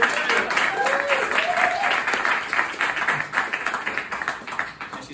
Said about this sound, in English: Round of applause for my wife, Lena.